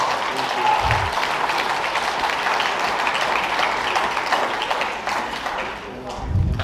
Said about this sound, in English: Let's give a big round of applause for Mr. Stephen and Catherine